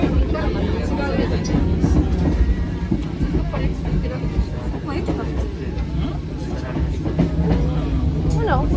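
The Hakone switchback train rumbles along with a low, continuous rail drone and occasional clicks and squeals, heard from inside the car while passengers talk over it.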